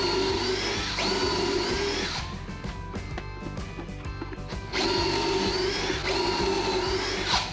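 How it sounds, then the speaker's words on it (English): Power drill boring pocket holes into the end of a 1x3 wood board, with a high whining drill run, a rougher grinding and clicking stretch in the middle, then the whine returning, close and moderately loud. "So I am adding pocket holes on the bad side of each end."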